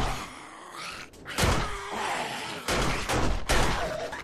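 Gunfire in the zombie survival game 7 Days to Die, at night in a large bookstore: a few sharp, loud shots spaced over a couple of seconds, above a steady background of game ambience.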